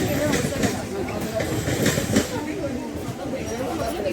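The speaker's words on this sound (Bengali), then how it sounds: "আমাদের ট্রেন চলে এসেছে," Inside a moving passenger train on a journey to Kolkata, a steady low rumble and rattle of the carriage runs throughout, with people talking nearby over the constant noise.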